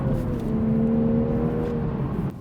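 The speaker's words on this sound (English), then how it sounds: "All you do is a quick downshift and just fly past people." A manual 2023 Toyota Supra downshifts and accelerates, its engine giving a close, steady humming drone that holds for about two seconds before cutting off abruptly.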